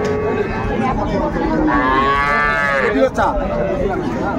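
A dairy cow at the Ambari cattle market in Dinajpur lets out one long, loud moo that rises and fades, with a low murmur of market chatter around it.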